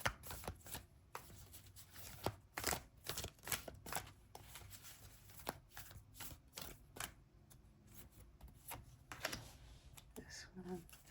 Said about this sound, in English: I feel like I need to keep shuffling.